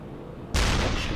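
A single loud, sharp cannon-like blast from a U-boat deck gun firing high-explosive shells in the video game UBOAT erupts after a brief quiet stretch, then rolls on as a sustained rumbling roar.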